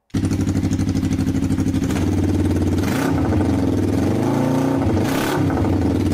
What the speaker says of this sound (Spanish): es un motor de calado de cigüeñal 180 grados, pues va a sonar así